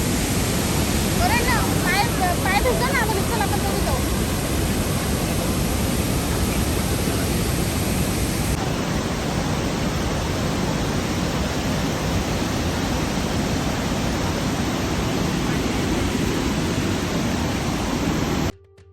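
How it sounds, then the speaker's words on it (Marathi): A large waterfall roars as a dense, continuous wash of falling water heard up close, loud and unbroken, with a brief faint voice early on, before cutting off abruptly at the end. "आणि आता मी येऊन पोचलो अहो धबधब्याच्या जवळ तर खूप सुंदर असा धबधबा होता"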